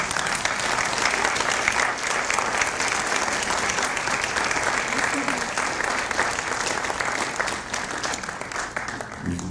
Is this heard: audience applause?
yes